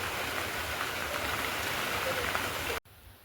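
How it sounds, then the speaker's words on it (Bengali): Heavy rain falls outside as a steady, loud dense hiss that continues unbroken for nearly three seconds, then cuts off abruptly to quiet room tone. "আর বাইরে কিন্তু এই মুহূর্তে প্রচণ্ড বৃষ্টি হচ্ছে।"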